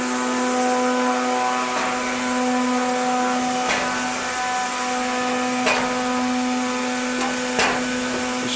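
A Pace Omni Line 400 automatic bottle unscrambler with feeder runs in a steady, loud mechanical drone with a constant motor hum, punctuated by sharp periodic clacks every couple of seconds.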